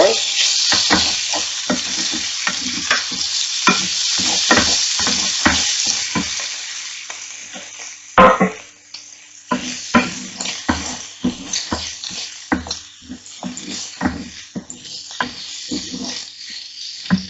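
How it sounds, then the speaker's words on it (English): Kidney frying in a pan for a Lancashire hotpot, with a steady sizzle and repeated stirring and scraping that continues through the whole stretch. There is a brief louder clatter about midway. "put the kidney in so they can have a quick fry"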